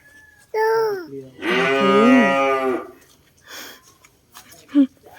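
A cow moos loudly nearby, with a short call followed by a longer drawn-out low, while someone also speaks and makes vocal sounds close by.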